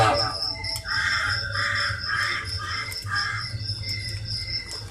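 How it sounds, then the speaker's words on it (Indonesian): A night heron calls in a series of harsh, repeated croaking notes at midnight, fairly loud over a steady background drone of insects and crickets. "Suara burung hoak seperti itu hanya bisa didengar oleh masyarakat yang beruntung, yang bisa mendengar suara kicaunya di tengah malam"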